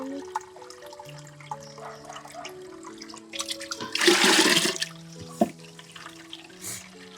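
Water running where people bathe in a rural spot, a mid-level splashing rush that swells loudly in the middle, mixed with musical tones and scattered speech.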